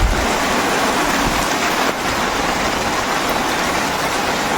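Heavy rain pours outside in a dense, unbroken hiss that stays loud and steady throughout.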